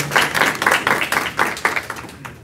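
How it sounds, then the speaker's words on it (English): Applause for a student at a graduation-style recognition ceremony, heard as brief bursts of clapping in a short run of uneven rhythm, fairly close and moderately loud. "Let's give her a round of applause."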